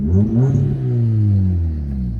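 A car engine revs up sharply, rising pitch, then settles into a deep, loud exhaust rumble close by, echoing off city buildings.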